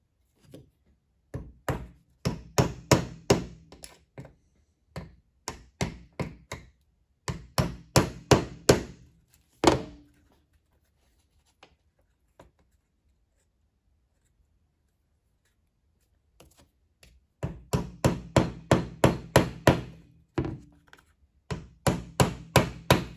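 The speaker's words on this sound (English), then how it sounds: "I'm just going to continue nailing" Bursts of quick hammer blows drive nails into a wooden hollow box, close and sharp, in rapid runs of several strikes separated by pauses and a long quiet gap.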